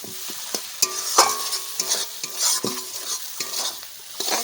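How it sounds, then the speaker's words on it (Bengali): A spoon repeatedly scrapes and taps a pan while butter egg masala curry is stirred, brisk close clatter over a gentle frying sizzle, with no voices. "একটু চিনি দিয়ে দিলাম একটু নাড়াচাড়া করে জল দিয়ে দেবো"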